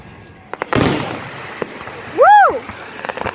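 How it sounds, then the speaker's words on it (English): Canada Day fireworks going off at a beach: a loud crackling burst followed by a few sharper pops, with a cheering voice rising in between the explosions. "I feel the wind on my face from the fireworks."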